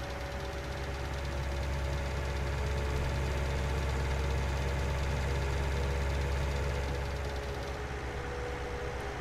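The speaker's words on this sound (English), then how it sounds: "Nice sounding little tractor." A Valtra A Series tractor engine from Farming Simulator 19 runs steadily, a constant low mechanical drone with a mid-range hum that holds at an even level throughout, with no speech.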